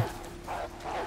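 A dog barking in the video game Resident Evil 6 near a mansion, a couple of short barks over game ambience and background music, fairly faint.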